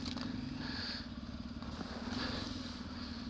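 Off-road motorcycle engine held in second gear, a steady low drone close by with slight surges and scattered clattering and scraping from the terrain, no talk.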